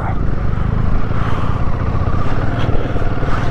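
BMW GS 1250 motorcycle engine running steadily on a Ladakh mountain road, a continuous low rumble with road noise that stays loud and close throughout, with no clear revs standing out.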